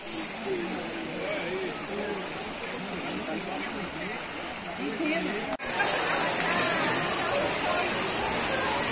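Cachoeira da Garganta waterfall in São Thomé das Letras pours with a steady, dense rush of falling water, close and continuous, growing slightly louder partway through.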